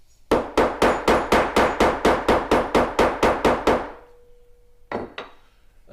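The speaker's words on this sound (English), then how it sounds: "We can then take a dome-headed hammer and tap down our holes even further." A dome-headed hammer taps a pricking iron into leather in a run of about fourteen evenly spaced, sharp knocks, then a brief pause and two more strikes, close and loud.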